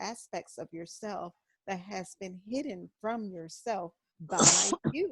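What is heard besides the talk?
sneeze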